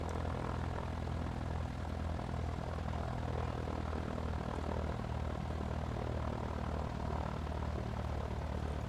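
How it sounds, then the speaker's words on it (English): Piper Cub light airplane in flight near landing, its propeller engine droning steadily and loudly from inside the cockpit, constant and unbroken with no voices. "It's a pretty clean airplane."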